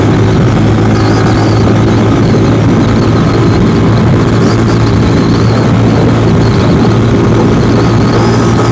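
A Venom X22R motorcycle holds fourth gear near 6,500 RPM, its engine a loud, close, unbroken drone heavy with low rumble and rushing wind.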